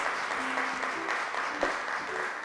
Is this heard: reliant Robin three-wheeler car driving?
no